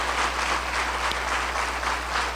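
A church congregation applauds together at the close of a worship service, a dense, steady wash of clapping over a constant low hum, sustained throughout with no voices standing out.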